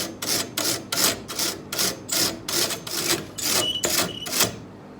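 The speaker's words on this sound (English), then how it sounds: "So I'm taking a wire brush, just trying to clean that off." Steady rhythmic scraping of a wire brush against a sawmill blade, about a dozen back-and-forth strokes, close and moderately loud, no talking.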